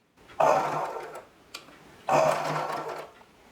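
A pico sewing machine stitches a rolled hem along a saree edge, with two bursts of rapid, whirring mechanical stitching, each about a second long, separated by a short pause and a tick, close and fairly loud.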